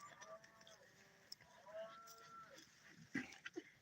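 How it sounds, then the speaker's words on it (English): Angus cattle lowing outdoors in a ranch yard, a few faint, distant moos rising briefly over low background noise, with a louder call near the end. "You can hear all the cows in the background."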